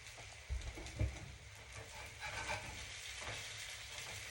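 A protein pancake made with detox protein powder cooking on medium heat in a pan, giving a steady soft sizzle with a couple of brief louder bumps near the start, close and alone without talk.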